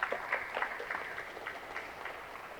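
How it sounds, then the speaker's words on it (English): Faint scattered applause for youth leadership at a mayoral bill signing, a thin patter of clapping heard from a distance that fades gradually over a couple of seconds. "can we just get a round of applause again for the leadership of our youth?"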